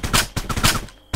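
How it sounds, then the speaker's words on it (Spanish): Video game gunfire during a stealth shooter sequence, a few sharp loud shots fired in quick succession, then a brief pause and one more close shot at the end. "Cuando tengas disparo, apuntamos y disparamos."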